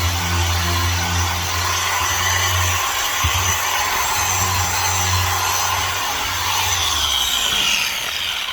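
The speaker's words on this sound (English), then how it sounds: "with this Festool detail sander. And while I'm sanding all these patches" Festool detail sander sanding filler patches on exterior house siding outdoors, a steady humming motor whine with gritty abrasive rubbing that continues evenly, briefly interrupted by a sharp knock partway through.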